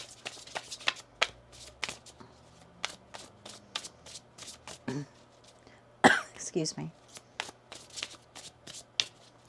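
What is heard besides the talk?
shuffling a deck of tarot cards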